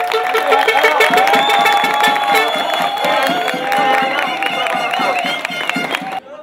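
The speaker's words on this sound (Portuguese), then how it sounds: "Uma grande salva de palmas para a nossa luta aí." A protest crowd claps and cheers loudly and continuously nearby, with whoops and shouting voices mixed into rhythmic applause that cuts off abruptly at the end.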